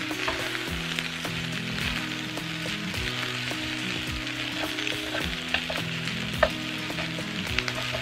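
Peyoung yakisoba noodles fry in a Peyoung maker pan with a constant close sizzle and scattered light crackles and taps, steady for the whole stretch with no talking.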